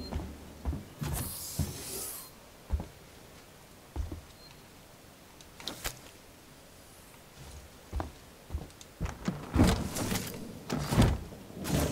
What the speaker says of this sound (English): All these frickin' doors opening left and right all around me.